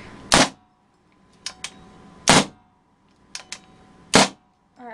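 A Spyder TLX paintball marker, faulty and not cocking properly, is cocked and fired: three sharp, loud bursts of air spaced about two seconds apart, each followed by small mechanical clicks, close and with no talk.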